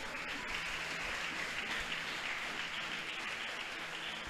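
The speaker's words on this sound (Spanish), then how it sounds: "¿Cuántos le aplauden al Señor, hermano?" A church congregation claps for the Lord during a service, a dense, even wash of applause holding steady from start to finish with no voices standing out.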